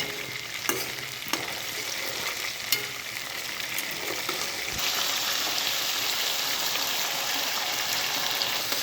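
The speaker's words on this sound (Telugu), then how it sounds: "ఇప్పుడు ఆనియన్స్ ఎర్రగా అయ్యేంత వరకు చేయండి" Onions sizzle with ginger and garlic in a pan, a steady loud hiss of frying with a few sharp stirring scrapes and taps early on, no voices.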